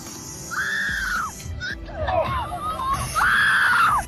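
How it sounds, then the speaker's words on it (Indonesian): A princess in a film screams in fear near a snake tank, two long, piercing shrieks separated by a burst of agitated voices and commotion. "Sang putri berteriak ketakutan."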